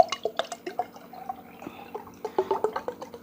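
Chilled water poured over hands for washing before a meal of fufu and okro soup, heard as close, crisp dripping and splashing in short uneven bursts.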